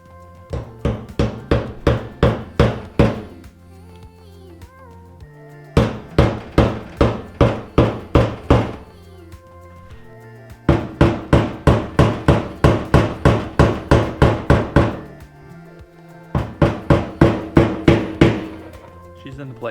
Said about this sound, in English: we can tap the lock ring into place.